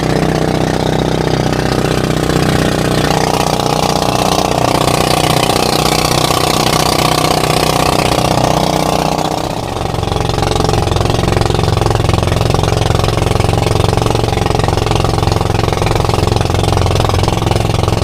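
A boat's engine idles at sea during a Pacific voyage, a loud, steady mid-pitched chugging drone that runs continuously, briefly dipping and shifting in tone about halfway through before settling back into its idle.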